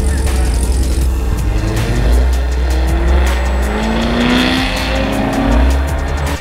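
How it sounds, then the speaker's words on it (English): Ford Mustang rolls in at a roadside supercar gathering at Alice's, its engine note rising and falling close by over a steady low rumble, with other engine noise in the background. "We got the Mustang coming in."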